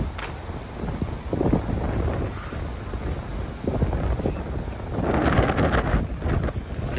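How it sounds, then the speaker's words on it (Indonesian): Cold wind gusting across a lake in Arkalyk, buffeting the microphone in uneven rushes that swell and ease, with faint water noise beneath. "Dinginnya suara angin."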